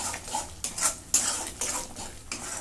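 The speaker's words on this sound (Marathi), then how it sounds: "आता याच्यामध्ये दही टाकून घेते 2 चमचे, आणि हे पण पिटून घेते" Repeated stirring and scraping of a spoon in a pan as two spoonfuls of yogurt are beaten into cooked masala for egg curry, soft irregular strokes close by with light metallic clinks and no voices.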